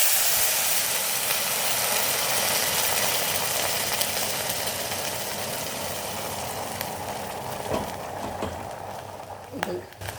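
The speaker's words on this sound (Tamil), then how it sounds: "இப்போ இந்த ஜவ்வரிசி வந்து நல்லா கொதிக்கிறது." Sago pearls (javvarisi) boil in a pot of water for kheer, giving a steady hiss and bubbling roar that slowly eases, with a few clinks near the end.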